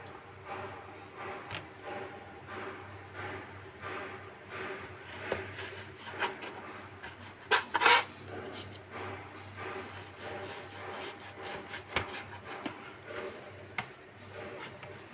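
A knife cutting potatoes into small pieces for a baked potato-and-meat tray: repeated soft scraping, chopping strokes at a close, uneven pace, with a louder rasping burst midway, over a low steady background hum.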